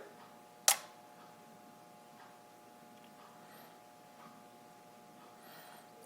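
A single sharp mechanical click of a Nikon FE film SLR camera's slow shutter, then a faint quiet room tone with soft breathing-like rustles.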